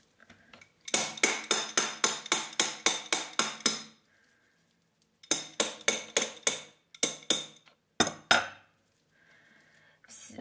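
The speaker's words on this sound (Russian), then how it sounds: "Со всех сторон его простукиваем, чтобы у нас легко это все шкурка отделалась" A hammer strikes a whole coconut shell over and over, a quick run of sharp knocks, a pause, then further bursts of close, loud taps as it is worked around all sides.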